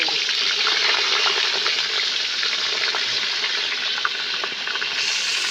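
Crab frying in a pan over a village cooking fire, a steady dense sizzle with watery crackle running continuously at fairly loud level throughout.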